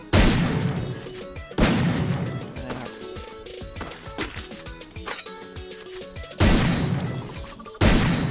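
Sharp, loud gunshots in the Free Fire video game ring out in rapid bursts, with heavy impacts near the start and end and a clattery stretch of quicker shots between them.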